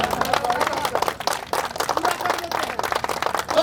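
An audience at an evening poetry gathering (kavi sammelan) during a religious festival in Buxar claps in uneven bursts, moderately loud and somewhat sparse, with a few faint voices in the crowd.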